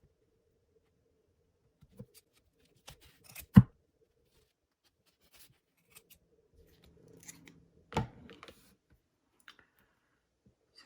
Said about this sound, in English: as tightly as you can with your hand while you go around and you cut them